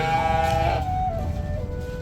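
Goats on an African farm let out a drawn-out bleat, with farm background noise around it and another quieter call toward the end.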